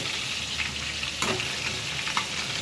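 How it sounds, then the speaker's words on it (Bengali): A large hilsa fish head fries in hot oil, giving an even crackling sizzle up close, with a sharp scrape or clink of a utensil around the middle and another near the end. "মাছের মাথা আজকে ভাজা হয়ে গেল"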